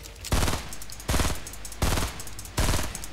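Automatic gunfire from the video game Fortnite comes in four evenly spaced rapid bursts, each a loud rattling volley with brief quieter gaps between.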